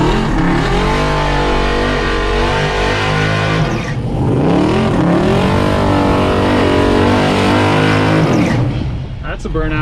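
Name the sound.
Mustang drag car doing a burnout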